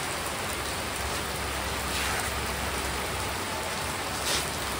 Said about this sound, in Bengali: এই দেখো বন্ধুরা, ঝুমঝুমিয়ে বৃষ্টি হচ্ছে।